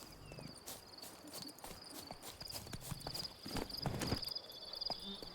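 Hoofbeats of a horse in The Witcher 3, a steady clip-clop of hooves moving at pace across open ground, with a faint high insect-like drone running underneath throughout.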